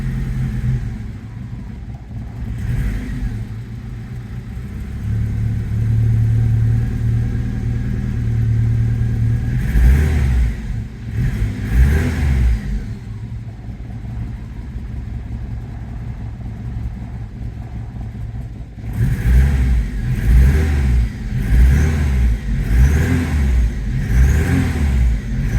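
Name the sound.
1982 Saab 900 Turbo engine revving with throttle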